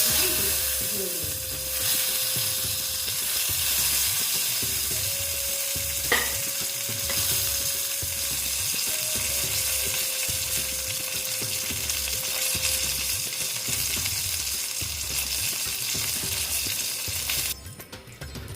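Steady, dense sizzle of eggplant slices frying in oil in a wok throughout, with occasional scraping stirs, then the sizzle swells louder and brighter near the end.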